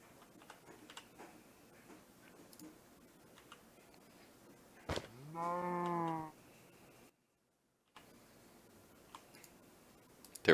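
A Minecraft cow in a paddock in the video game gives a single drawn-out, buzzy moo mid-clip, between quiet ticking and clicking game sounds.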